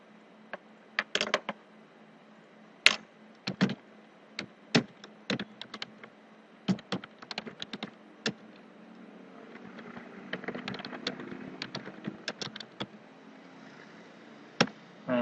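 Irregular keystrokes on a computer keyboard, close and crisp, tap in quick bursts with short pauses while a Debian 6 Linux server is configured at the command line; no voices.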